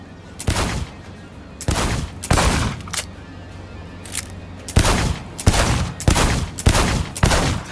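Heavy gunfire bursts out at a shooting range in Cyberpunk 2077: about eight loud, sharp volleys, some in clusters and others spaced apart, with quiet gaps between them.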